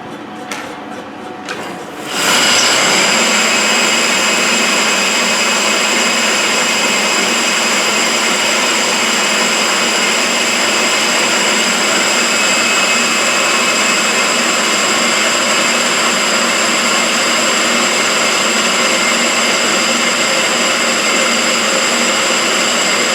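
Cotton spinning machinery runs in a Manchester science and industry museum, starting up after a brief quieter moment into a loud, dense, continuous mechanical roar and whir that holds steady without talk.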